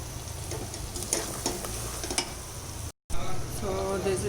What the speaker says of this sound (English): So I would be adding the mutton now.